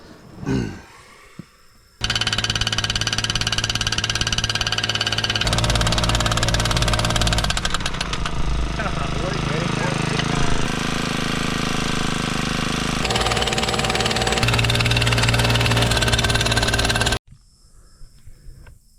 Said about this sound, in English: now we've got to drive these T-posts at each leg, which is how we've been doing it